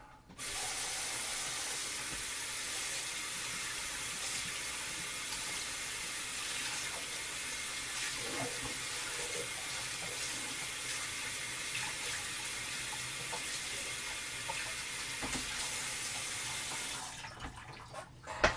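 Cold tap water runs in a steady, loud hissing stream over draining instant noodles for Korean cold noodles for a long stretch, then cuts off abruptly near the end.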